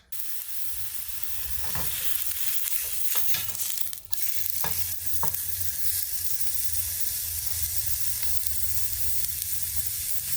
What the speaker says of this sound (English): So I'm going to take this little piece right here and fry it up in a pan and give it a taste.